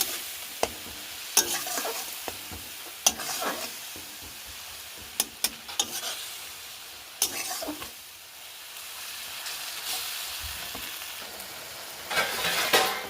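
Spice paste fries in oil in a wok as spice-water is poured in and stirred for a tel koi fish curry; bubbling sizzle sits under sharp, repeated spatula scrapes and clinks, close and moderately loud.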